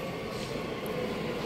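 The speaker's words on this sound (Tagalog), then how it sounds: "Dumating na yung tren." A train pulls into a station as a dense, steady rumble and roar fills the space at close range. Nobody speaks over the continuous noise.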